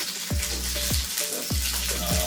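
Onions and rosemary frying in a small amount of oil, a steady close sizzle with periodic low thumps and stirring sounds about every half second, no talking.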